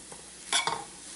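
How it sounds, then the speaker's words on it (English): A spiced vegetable filling for veg puffs is stirred in a pan, giving two short, close scraping-sizzle bursts over a quiet background, the whole sound lasting barely a second. "Now give it again a good mix"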